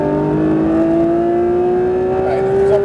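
A Porsche 992 GT3 RS pulling hard at full throttle on a track, its engine note climbing steadily in one long rising sweep, loud and close, with a faint voice briefly under it.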